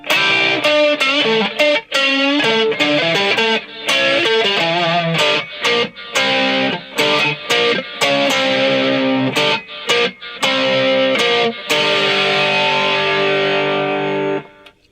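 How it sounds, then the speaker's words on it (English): Loud electric guitar, a cheap Rickenbacker 325 copy on the neck pickup, with heavy distortion overdrive, strummed chords and riffs with brief stops, ringing out on a sustained chord at the end. "let's see what it sounds like with a little distortion or overdrive on it."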